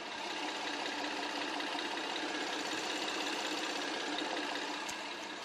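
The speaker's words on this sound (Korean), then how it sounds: "GDI 가솔린 엔진답게 굉장히 정숙하고 깔끔한 엔진 사운드까지 들려주고 있고요" Steady, smooth idle of a Hyundai Grandeur HG GDI gasoline engine heard up close with the bonnet open, an even hum with a faint ticking texture, constant in level throughout, no voices.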